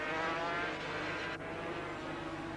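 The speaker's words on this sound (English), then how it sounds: "Two factory Yamahas head-to-head in this tremendous battle." Factory Yamaha motorcycles racing head-to-head at the 1982 Argentine Grand Prix, a dense, continuous high-pitched engine roar at steady loudness, with a brief dip as one machine changes gear.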